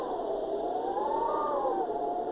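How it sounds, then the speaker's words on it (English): Whistling wind setting on a small portable light-up sound machine, meant to evoke a snowstorm: a steady hiss of wind with a rising and falling whistling tone, continuous and fairly loud, no talking. "Whistling winds. That sounds like a snowstorm."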